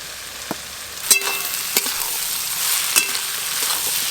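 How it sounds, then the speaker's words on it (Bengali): Onions sprinkled with salt fry loudly in a pan, a close, steady sizzle punctuated by a few sharp spatula knocks and scrapes, no voices. "পেঁয়াজের ওপর দিয়ে একটু লবণ ছড়িয়ে দেব, তাহলে তাড়াতাড়ি পেঁয়াজ নরম হয়ে যাবে, ভাজতে কম সময় লাগবে।"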